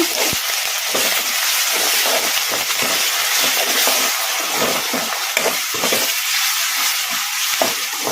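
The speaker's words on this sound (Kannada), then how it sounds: "ಅಲ್ಲ ಬೆಳ್ಳುಳ್ಳಿ ಪೇಸ್ಟ್ ಹಸಿ ವಾಸನೆ ಹೋಗೋವರೆಗೂ ಒಂದೆರಡು ನಿಮಿಷ ಈ ಥರ ಕಲಿಸ್ಕೊಂತ ಫ್ರೈ ಮಾಡ್ಕೊಂಡ್ಬಿಡೋಣ" Ginger-garlic paste frying in a hot pan for chicken fry, with a steady broadband sizzle and repeated scraping stirs of a spoon against the pan, close and continuous with no voices.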